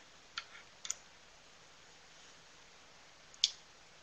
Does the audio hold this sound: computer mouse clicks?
yes